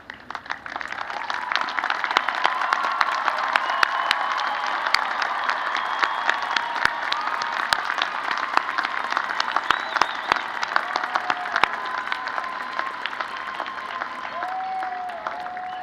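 At a university commencement, the crowd applauds graduating honors students as they rise, a broad sustained clapping across the hall with occasional sharper claps and faint tonal sounds beneath.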